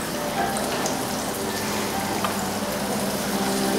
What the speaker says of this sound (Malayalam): നന്നായിട്ട് ചൂടായിട്ട് നമ്മൾ അതിലോട്ട് പത്തിരി ഇട്ടിട്ട് പൊരിച്ചെടുക്കാം.